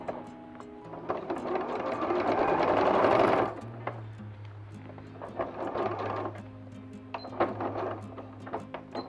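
A sewing machine stitching and backstitching a bag organizer, running in a fast whirring burst, then slower intermittent stitches with mechanical clicks, close and clear.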